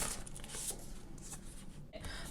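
Tarot cards are shuffled by hand during a pick-a-card reading, giving a brief, soft riffling and rustling that lasts about two seconds.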